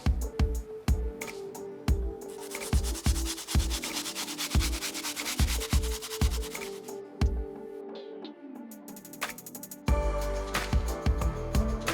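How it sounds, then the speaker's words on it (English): Stiff bristle brush scrubbing a sneaker midsole, a series of rhythmic scratchy strokes in bursts with short pauses, close and fairly loud, with no voices. "So we're gonna go ahead and move on to the midsole, and for that, we're going to use our stiff bristle brush."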